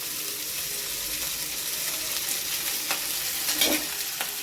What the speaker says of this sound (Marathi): आपली फोडणीमध्ये आपण हा भात टाकून घ्यायचा आहे.